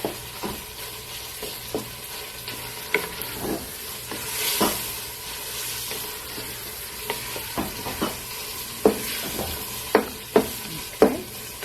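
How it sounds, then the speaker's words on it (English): Ground meat for Greek pastitsio sautéing in a pan, a steady frying sizzle with intermittent scrapes and taps of a spoon stirring, growing more frequent toward the end. "We're going to let it saute for another 2-3 minutes"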